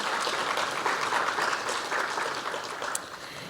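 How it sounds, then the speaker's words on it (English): A ceremony audience applauds honoured high-achieving HSC students and university graduates, with steady, dense clapping that holds at an even level throughout. "give yourselves a pat on the back and a round of applause"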